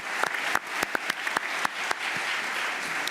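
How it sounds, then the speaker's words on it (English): An audience at a conference opening plenary applauds the panelists; scattered, uneven claps with distinct sharp hits ring out over a room wash, thinning toward the end. "please, just if you can join me for an applause for the panelists."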